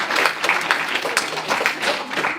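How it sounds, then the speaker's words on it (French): A studio audience breaks into warm, steady applause at a French compliment-battle show, with dense overlapping claps at an even level throughout and no pause. "on l'applaudit bien fort, s'il vous plaît"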